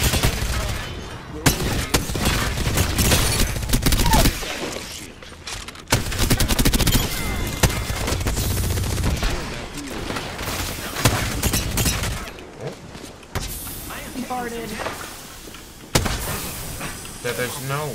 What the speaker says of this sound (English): Smart bullets away.